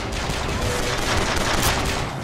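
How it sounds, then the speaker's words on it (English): Dense, continuous gunfire in BioShock Infinite, a loud, steady barrage of overlapping shots and bursts with no pauses, forming a constant combat roar. "Got ourselves a whole bunch of stuff shooting at us."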